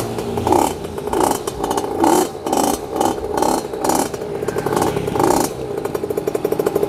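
A 50cc two-stroke mini trail motorbike engine runs nearby, revving up and down in repeated pulses with a rattling, buzzy tone that is loud and steady throughout, with no talk.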